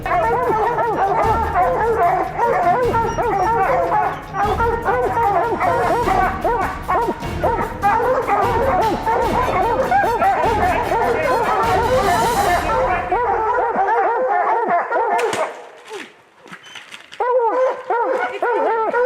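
Hunting dogs bark and yip loudly and continuously during a black bear hunt, with whimpers and background voices mixed in, before the din thins out near the end.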